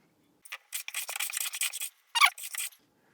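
A Stanley No. 4 smoothing plane fitted with a Lee Nielsen iron shaves wood in close, crisp rasping strokes, a long run of quick passes, a short pause, then another burst.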